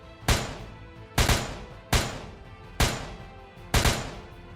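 Five loud, sharp gunshots ring out at a shooting range target in the game ERLC. They are spaced just under a second apart, each with a sharp crack and a brief decaying tail, with no talk.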